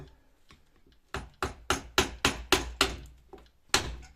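A chisel is struck against a wooden Tai Ji Quan ball being carved, giving about eight crisp, close knocks. The first few are faint and scattered, then a steady run of louder blows comes at roughly quarter-second spacing.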